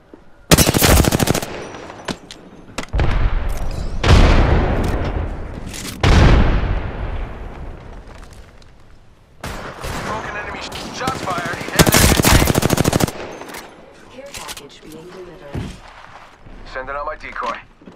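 Heavy automatic gunfire in the video game Apex Legends, several loud close bursts of rapid shots separated by quieter gaps with scattered single shots, with brief talk between.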